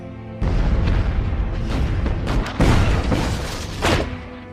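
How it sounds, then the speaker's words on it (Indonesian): Heavy German warship gunfire booms in a sustained barrage, deep thuds and blasts overlapping continuously with a few louder bursts standing out. "kapal perang Jerman mengeluarkan tembakan bertubi-tubi"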